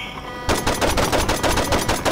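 Rapid automatic gunfire from the Saints Row video game, a dense stream of loud bursts that starts abruptly after a brief quieter lead-in and continues without pause.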